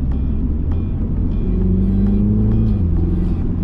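A Mini Cooper JCW engine drones loudly inside the cabin in dynamic mode, its pitch climbing briefly then dropping as it shifts, with a steady road rumble underneath.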